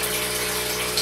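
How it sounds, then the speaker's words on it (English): A newly bought water pump pushes creek water into an aquaponics tank, a steady, close gushing flow with a continuous hum underneath. "That's that pump I bought the other day. That's a good flow."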